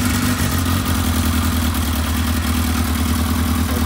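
A 1982 Kawasaki KZ motorcycle runs at a steady, loud idle just after starting with the choke out, its low engine tone constant and close throughout.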